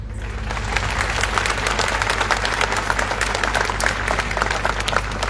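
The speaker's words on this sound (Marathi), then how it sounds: "उत्स्फूर्त प्रतिक्रिया त्यांनी टाळ्या वाजून या ठिकाणी दिल्या" An audience at a live public event in Maharashtra applauds, dense steady clapping from a crowd that holds at full strength throughout.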